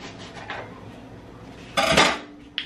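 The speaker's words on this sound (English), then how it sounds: "I'm just going to go ahead and just cut my lemon, not my lemon, my lime, just to get it over with" A knife slices through a lime on a cutting board while chamoy and Tajin rim paste is being prepared, giving a short, close crunchy cut near the end amid light clinks and kitchen handling.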